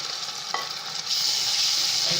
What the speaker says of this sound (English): I'll give it a good stir.